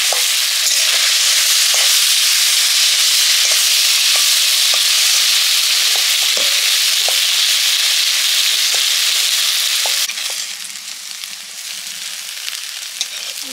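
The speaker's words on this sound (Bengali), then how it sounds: "লুটি গুলো ভাজা হয়ে গেছে" Taro stolons and prawns frying in a pan give a loud, steady sizzle sprinkled with sharp pops and crackles, easing to a quieter hiss near the end.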